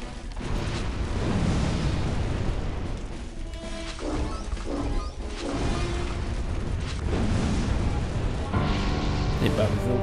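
In the Psychonauts video game, fire bursts up from below in loud, roaring crashes and booms that rise and fall in waves, with a brief lull before heavier blasts near the end.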